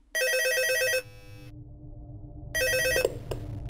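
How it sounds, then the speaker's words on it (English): A telephone rings in the video game Gmod Murder: two loud, bright bursts of electronic ringing separated by a short quiet gap, heard alone without any voices. "first thing that happens is you're going to hear a phone call."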